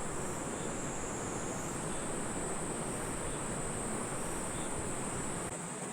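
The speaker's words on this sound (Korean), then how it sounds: "수컷매미가 목청껏 우는 소리가 들리네요" A steady, shrill insect drone fills the air without pause, a dense buzzing chorus of a male cicada singing close by along a grassy clifftop walking trail.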